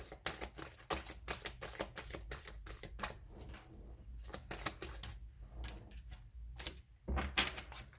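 A tarot card is drawn from the deck, giving a run of crisp, close paper flicks and taps spread across the moment, with no talking.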